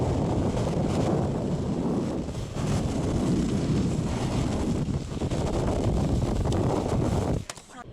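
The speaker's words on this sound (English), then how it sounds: "too windy out there to set up a tripod or do anything" Strong gusts roar across the microphone outdoors at an exposed, windy vantage point near Elk Neck, Maryland, a loud, continuous buffeting rumble that dips briefly and cuts off abruptly near the end.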